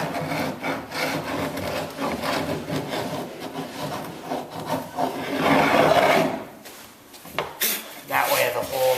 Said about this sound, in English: it was actually able to take and gouge the wood back out to what it's supposed to be